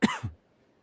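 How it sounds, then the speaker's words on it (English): A single short cough, close and clear, followed by silence. "I have a cough."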